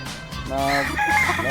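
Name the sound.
gamefowl chickens on game farm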